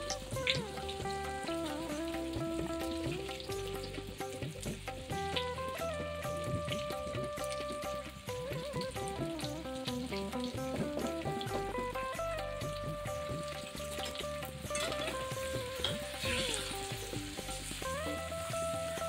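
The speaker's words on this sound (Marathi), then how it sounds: "तेल हलकसं गरम झालेलं आहे, तर मी त्याच्यामध्ये भेंडी ठेवणार आहे" Okra sizzles and fries in lightly heated oil, a steady crackling sizzle with stirring, close by, while music plays over it throughout.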